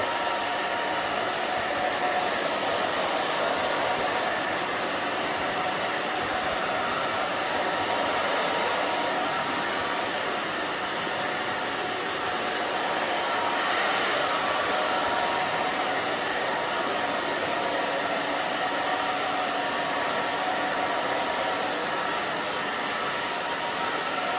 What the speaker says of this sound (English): I'm just gonna dry this back and forth here.